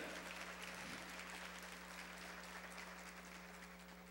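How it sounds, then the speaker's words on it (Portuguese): Congregation applauding during a church service, a steady dense patter of clapping that holds evenly throughout over a low sustained hum. "Pode aplaudir a Deus, que é Deus que faz isso"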